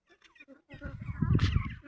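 Ducks at a farm with around five hundred birds give a loud, close burst of harsh quacking and squabbling, preceded by a few softer scattered calls.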